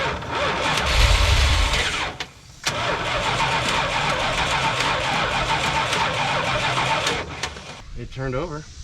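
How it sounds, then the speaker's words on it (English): Engine of a 1981–82 Dodge one-ton truck cranks and catches after choke spray, then runs steadily at a loud, close idle with a brief dip in the middle; voices talk over it near the end. "It turned over."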